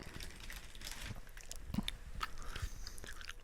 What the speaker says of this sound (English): How do you like the sound of me chewing on these watermelon Sour Patch Kids into the mic?